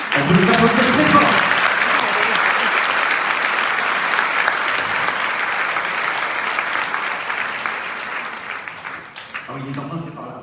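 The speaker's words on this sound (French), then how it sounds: "On peut les applaudir très fort." Loud, sustained applause from an audience at the opening ceremony of the 2023 La Fiction TV festival, a dense clapping roar that slowly fades, with a voice briefly audible near the start.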